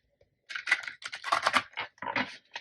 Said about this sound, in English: So I'm going to have to shuffle them a slightly different way